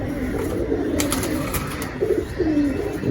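Pigeons at a pigeon market give soft, throaty coos over a dense, steady background hum, with two clearer warbling calls close together toward the end.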